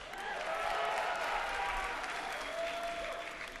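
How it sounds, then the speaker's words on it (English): Crowd at a StarCraft tournament final at MLG Dallas applauding and cheering in a dense, sustained wash of clapping that stays steady throughout, with faint voices mixed in. "let me hear it for TT1."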